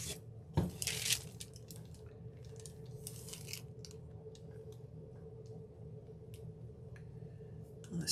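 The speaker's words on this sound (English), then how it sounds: "And let me rinse my brush off." A paintbrush being rinsed in a small container of water while painting Christmas nutcrackers, with a few soft splashes and swishes early on and then quiet drips and faint clinks nearby.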